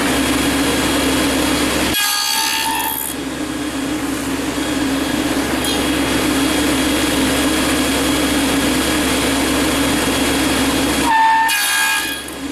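A table saw runs with a steady, loud whine while cutting box joints in wood, with two sharp breaks where the blade's pitch shifts as it bites into the workpiece.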